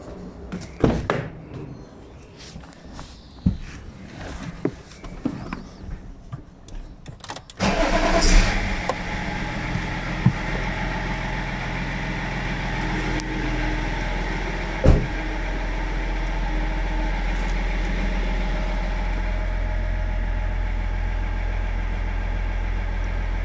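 BMW 330d E46 diesel engine cranking and catching after scattered clicks and handling noises, then settling into a steady, loud, even idle rumble that runs on alone to the end.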